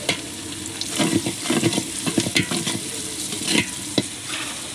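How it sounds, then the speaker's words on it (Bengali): Onion paste frying in a pan for pulao, a steady close sizzle broken by repeated scraping stirs, with no voices. "পেস্ট আমরা একটু লালটা লালটা করে ভেজে নেব"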